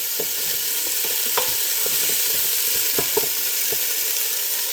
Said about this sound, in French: Je laisse mijoter le tout environ 1 minute, juste pour que ça prenne la saveur tout ensemble